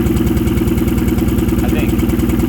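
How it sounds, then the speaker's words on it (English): A Toyota JZX100 engine idles steadily up close, a rapid even mechanical pulse and ticking of the injectors firing, loud and continuous with no talk over it. "I feel that injector firing."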